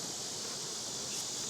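Honeybees on an open hive frame give a faint, steady high-pitched buzz that holds evenly for a brief moment.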